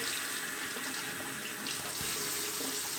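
A bathroom tap runs steadily to rinse a shavette razor during a shave, a continuous close hiss and splash of flowing water with no break and no speech.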